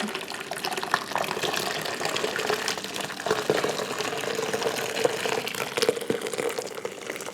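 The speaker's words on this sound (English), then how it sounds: "we're going to pour all this wonderful strawberry syrup" Strawberry syrup pours steadily through a sieve, a continuous close splashing trickle that holds at an even level throughout.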